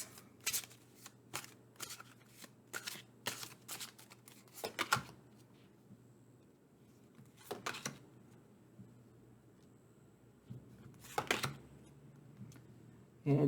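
Tarot cards shuffled by hand in quick riffling bursts separated by pauses, close and fairly soft over a low background hum, with no talking.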